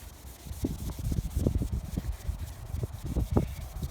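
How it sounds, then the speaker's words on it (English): A hand rubs cleaner back and forth over exposed base coat paint on a car, making close, rhythmic scrubbing swishes that repeat steadily, with no talking. "Just gonna go back and forth and clean that spot."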